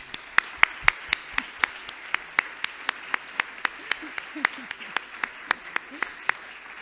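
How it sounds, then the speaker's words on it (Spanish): An audience at a ceremony honouring economists for 25 and 50 years of membership gives applause, heard as steady, evenly spaced sharp claps, roughly four per second, carrying over a low room murmur. "Vamos a darles un aplauso"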